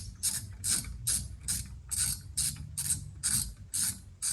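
A shorty flexible ratchet with an extension and a 13/16 socket clicks in about nine evenly spaced bursts of rapid pawl ticks, close and crisp, working on a Ford F150.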